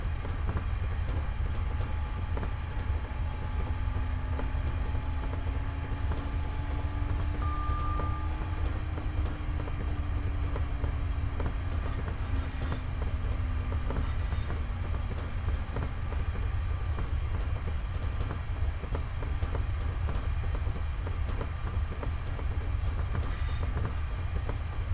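A train in Train Sim World 5 running steadily on a Netherlands route, with a continuous low rumble, rhythmic wheel clatter and a slowly rising then falling tonal whine throughout, and no talking.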